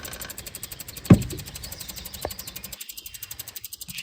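A 1988 Jeep Grand Wagoneer engine, short on fuel and barely idling, runs with a steady rapid pulsing chug and one sharp knock near the start. No one speaks.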